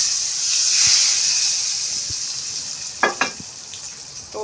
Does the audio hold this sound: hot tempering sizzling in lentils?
yes